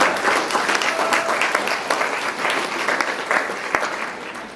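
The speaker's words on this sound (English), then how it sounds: "you deserve a round of applause" An audience gives a round of applause for school counselors, a loud, dense burst of many hands clapping that carries steadily from start to finish.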